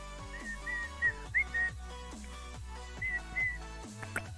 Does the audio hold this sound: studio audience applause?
no